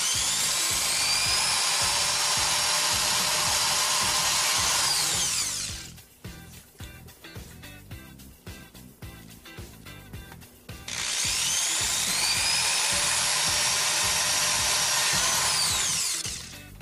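A power drill bores holes into an E Ink display, two loud sustained whining runs of about five seconds each with a stretch of clicking and handling noise between them, no talking.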